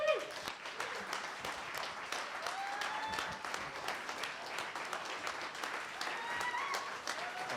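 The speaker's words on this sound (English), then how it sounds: "Let's give another round of applause for this great Creator Awards for Mass Access" An audience at the 2023 Mass Creator Awards applauds in a sustained, even patter of many hands, fairly faint and distant, with a few murmured voices mixed in.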